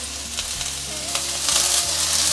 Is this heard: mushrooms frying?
yes